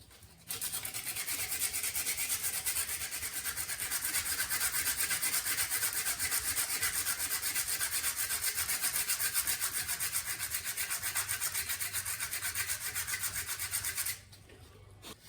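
80-grit sandpaper is rubbed by hand over a Ford F100/F250 steering wheel under repair, giving a continuous, close, even scratching hiss that stops abruptly near the end.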